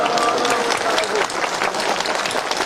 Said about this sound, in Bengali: জোরে হাততালি দিন।